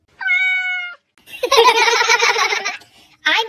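A cat in a backyard gives a clear, tonal meow up close, followed by a burst of high-pitched laughing voices and then another short cry.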